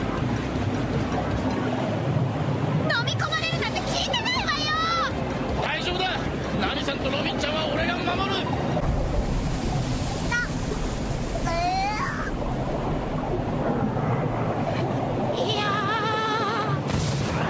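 Sea water churns in a whirlpool in a One Piece anime episode, a constant rushing, windy wash of water under animated voices and shouts.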